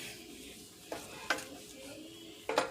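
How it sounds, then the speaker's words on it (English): Peach biscuit filling simmering in a pan, a faint low bubbling sizzle punctuated by three brief utensil clinks or stirs against the pan. "I'm just gonna let this simmer and come thick, and all that flavor infuse in our peaches."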